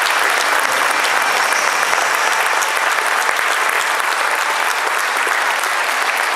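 An audience at a gala in Olsztyn breaks into warm applause, dense and loud clapping from a large crowd that holds steady and unbroken throughout.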